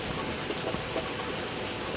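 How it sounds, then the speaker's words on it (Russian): Steady light summer rain falls outdoors in Krasnoyarsk Krai on a hot day, a constant soft hiss of drops with a few faint patters, heard alone without any talking. "Сначала шел грибной дождик,"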